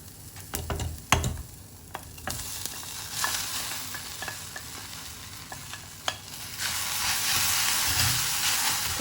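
Boiled lady's finger tossed into a pan of fried onions with a pinch of turmeric, heard as clattering stir strokes and scrapes over a sizzle that swells into loud steady frying near the end.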